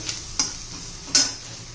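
A spatula stirs onion, besan, chilli powder, coriander powder and turmeric in a hot pan, with two sharp scraping strokes over a low, steady sizzle.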